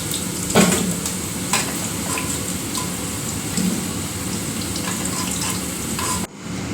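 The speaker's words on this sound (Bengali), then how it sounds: "দিয়ে ভালো করে নাড়িয়ে চাড়িয়ে লাল লাল করে ভেজে নিতে হবে" Potatoes frying in hot oil for a light chicken-and-potato curry, a steady dense sizzle with a few louder stirring clatters, close and continuous without talk.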